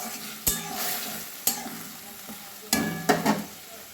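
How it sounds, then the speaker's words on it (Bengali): Soy sauce and tomato sauce with chicken being stirred in a pan over a low gas flame: steady close sizzle broken by a few sharp spatula scrapes and clatters against the pan. "গ্যাসের ফ্লেম লোতে রেখে আমি একটু নেড়ে নেব।"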